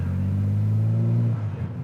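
A Nissan Z32 street car, modernized and making well over factory horsepower, drives on the road with a loud, steady low engine drone that drops off near the end, no voices.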